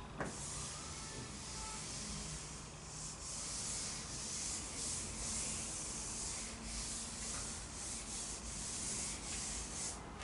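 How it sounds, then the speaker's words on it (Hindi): Steady dry rubbing of an eraser or duster clearing writing during a Class 10 maths lesson, a continuous scratchy friction sound that runs close and fairly even throughout, with no talking. "मैं इसको रब कर देता हूं।"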